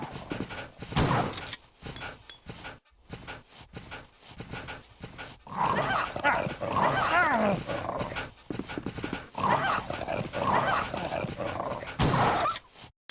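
Zombie dogs attacking in the game Resident Evil Deadly Silence, with snarling, panting and barking in loud, repeated bursts alongside combat noise and a person talking over it.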